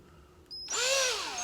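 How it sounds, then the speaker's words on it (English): An imported power drill spins up for a DIY valve job on cheap 799 LS cylinder heads, rising from a short click into a steady, loud whine that rises and falls slightly in pitch over about a second. "One imported drill."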